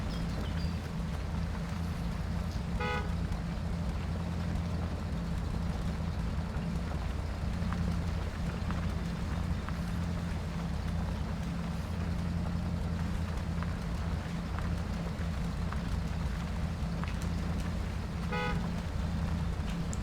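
A heavy truck in Spintires: Mudrunner churns through mud, its engine a steady, low, continuous rumble that holds at one level for the whole stretch with no voices.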